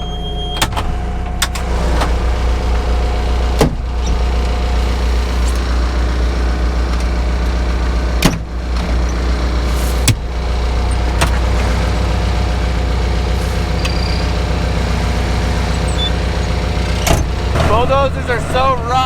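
John Deere bulldozer engine idling steadily from inside the cab, a low continuous rumble with occasional clunks and knocks, and a voice speaking briefly near the end.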